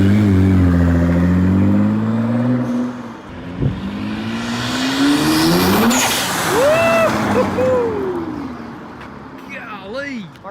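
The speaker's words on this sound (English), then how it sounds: "But hey, it's driving though. It's driving." A rebuilt, previously wrecked 2024 Nissan GT-R on its first road drive, engine note rising and settling under steady loud talk throughout, with brief squeaks and whines in the later seconds.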